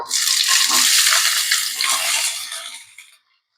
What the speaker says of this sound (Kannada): ಈಗ ನೋಡ್ರಿ ನಮ್ ಎಣ್ಣೆ ಕಾದೈತಿ ನಾ ಇಲ್ಲಿ ಉಳ್ಳಾಗಡ್ಡೆ ಹಾಕೊಳದೇನು